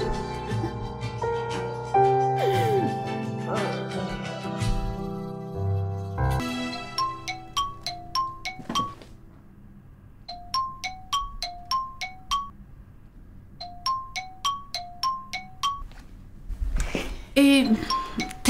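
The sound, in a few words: phone ringing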